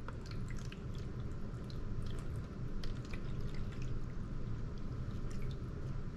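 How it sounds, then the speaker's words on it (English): Water poured steadily into a 500 ml Jack & Rose essential oil diffuser reservoir up to the fill line, a continuous close trickle with scattered small drips and splashes, no talking. "so we're gonna add water"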